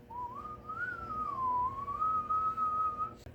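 A person whistles a single sustained, gently wavering tone while blowing on super glue to dry it, steady and close for about three seconds with no talking.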